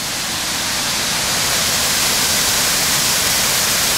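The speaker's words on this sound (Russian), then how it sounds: "Великолепный водопад." A waterfall in Germany in winter pours with a steady, dense rushing roar that stays loud and close from start to finish, with no voices.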